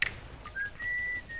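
A person whistles during a CS:GO match, a short chirp followed by a long sustained tone that slides up, then holds, audible over faint game background noise.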